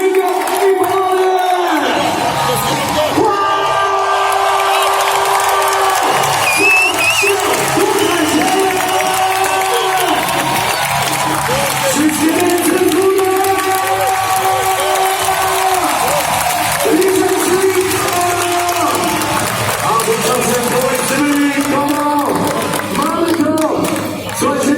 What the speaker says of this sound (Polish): dajcie mu brawo!